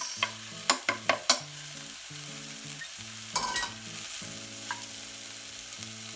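Carrot goes into a hot pan for a Lancashire hotpot and is stirred, with several sharp scraping clacks of a utensil against the pan over a continuous sizzle. Tonal background music plays throughout.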